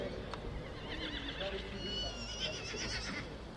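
A foal at an AQPS horse sale gives loud, wavering neighs and whinnies across the stretch, with faint hoof clip-clop and some voices murmuring underneath.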